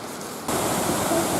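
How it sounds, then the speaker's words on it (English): Rushing waterfall beside a walking route in the Wicklow Mountains, Ireland, a steady broadband roar that cuts in abruptly and stays loud and constant. "This is the waterfalls that are following along the pink route"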